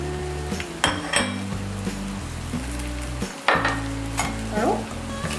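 Vegetables and fried dry fruits stir-fried in a pan for veg fried rice, with steady sizzling under repeated scraping and clinking of a spoon against the pan.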